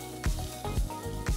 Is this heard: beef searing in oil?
yes